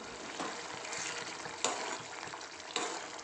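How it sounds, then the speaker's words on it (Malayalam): A coconut-free curry bubbles at a rolling boil in a pan, a steady close gurgle with a few sharper pops. "ഇപ്പം നല്ലപോലെ തിളച്ച് വന്നിട്ടുണ്ട്"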